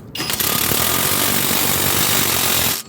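A pneumatic impact wrench runs in one steady, loud burst of close hammering while tightening suspension strut bolts on a Volvo XC90. It lasts nearly three seconds and stops abruptly.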